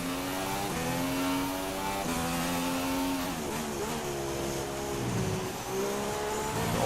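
A Formula 1 car in the racing game F1 2016 holds a high, buzzing engine note through the corners, its pitch dipping and climbing with throttle changes in a steady, continuous drone.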